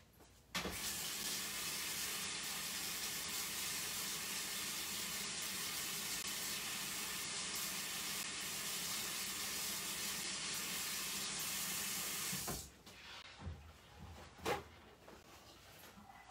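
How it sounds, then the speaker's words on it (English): A paint brush is rinsed under a running tap, making a steady, even rush of water for about twelve seconds. The flow then cuts off, leaving a few faint knocks and clicks. "I'm just going to rinse my brush really quick."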